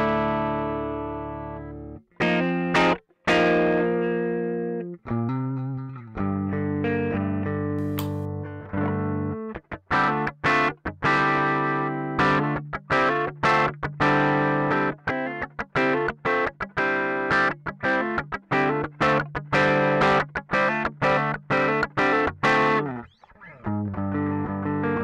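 A Jackson Kelly JS32 electric guitar plays through heavy distortion with no reverb: crunchy sustained chords and choppy palm-muted chugs in tight rhythmic bursts, loud and dry throughout.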